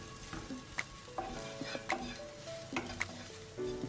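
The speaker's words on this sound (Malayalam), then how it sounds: "1/4 ടീസ്പൂൺ മഞ്ഞൾപ്പൊടിയും 1/2 ടീസ്പൂൺ മുളക് പൊടിയും 1/2 ടീസ്പൂൺ കുരുമുളക് പൊടിയും ചേർത്ത് മൂപ്പിച്ചെടുക്കാം" Turmeric, chilli and pepper powder frying in a pan, a soft sizzle under repeated scraping strokes of a stirring spoon against the pan, close and fairly quiet.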